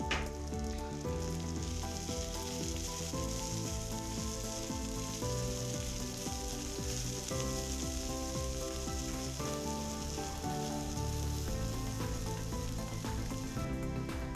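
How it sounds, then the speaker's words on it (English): Chopped garlic, ginger and onions frying in a pan give a steady, dense sizzle and crackle, continuous and close, with soft stirring scrapes and no voices. "I add 1 tablespoon of chopped garlic and 1 tablespoon of chopped ginger over the onions."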